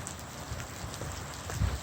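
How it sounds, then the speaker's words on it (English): Steady rain patters softly on a surface, a faint continuous wash of drops with no voices. "It's starting to rain."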